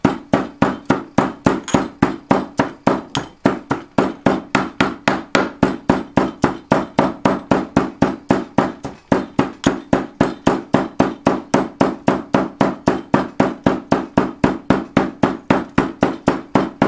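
Ingredients for a banishing powder are pounded and ground into a fine powder, producing a fast, steady series of loud, evenly spaced thuds that continue without pause, close up.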